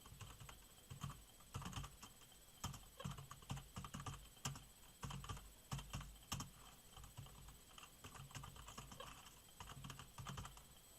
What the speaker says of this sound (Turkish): Çünkü odaklandım ama yine yavaş yazıyorum.